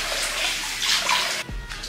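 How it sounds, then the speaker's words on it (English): Warm water runs steadily from a tap as someone rinses their face at a sink, a close, continuous splashing hiss that shifts briefly near the end. "So I use warm water to rinse my face."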